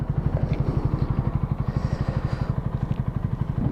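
A Honda CB 125R single-cylinder motorcycle idles close by, its steady low thumping pulse repeating rapidly and evenly throughout, with no talking.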